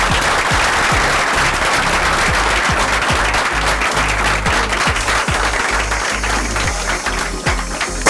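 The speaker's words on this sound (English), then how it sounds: "firstly clap for him, all of you" Room full of people clapping for a student at an SSB interview preparation session, loud, dense applause with distinct close claps standing out from the steady mass, continuing for about eight seconds.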